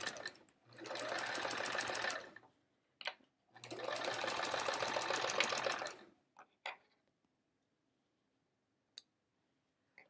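A sewing machine stitching lines across a quilt runs in two steady bursts of about two seconds each, close and even, with soft clicks of the machine and fabric handling in the pauses.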